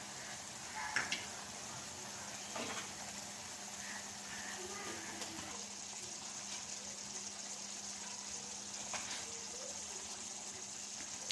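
Chicken karahi fries with red chilli, dried coriander, karahi masala and cumin in a wok, giving a steady, even sizzle throughout with occasional soft stirring clatter.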